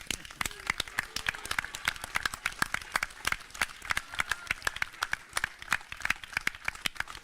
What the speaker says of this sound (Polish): A teraz brawa dla nich.